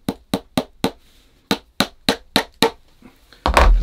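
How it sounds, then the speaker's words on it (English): A cobbler's hammer strikes a leather shoe upper during lasting, about a dozen sharp, close taps in an uneven rhythm, followed by a brief louder rustling thump. "So just use my cobbler's hammer and try and get everything going down nice and flat"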